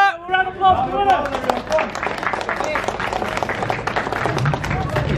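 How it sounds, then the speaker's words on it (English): Applause and clapping from a small crowd at a car meet as a winner is announced, with voices and chatter mixed in over about five seconds. "A round of applause for the winner."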